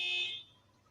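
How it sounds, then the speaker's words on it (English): An electronic alarm from a nearby property sounds as a bright, steady high-pitched tone that holds briefly, then cuts off and leaves quiet background. "someone in my area, their alarm went off"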